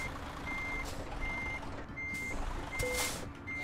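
Truck reversing beeper in Euro Truck Simulator 2, five steady evenly spaced beeps repeating over a constant engine drone, with a brief air-brake hiss near the end, no talking.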